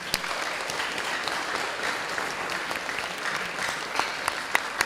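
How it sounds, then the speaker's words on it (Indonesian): A youth Christmas service audience claps together for themselves, a steady wash of many hands at moderate level with a few sharper individual claps standing out near the end. "Mari kita tepuk tangan bersama-sama untuk kita sendiri."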